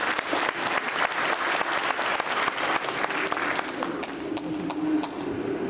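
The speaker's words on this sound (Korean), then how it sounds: "자, 박수로 한번 환영해 주십시오." Audience applause at a church assembly meeting welcomes a speaker, a steady dense clapping from a sizable crowd throughout, with no talking over it.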